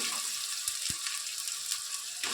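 Chicken with turmeric fries in a clay pot with a close, continuous sizzle, broken by a few soft clunks of stirring near the start and end.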